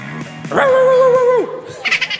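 A person vocally imitates a dog bark at an outdoor karaoke event in a Caloocan barangay, giving one drawn-out, howl-like yelp with a couple of quick short yaps after it, close and loud.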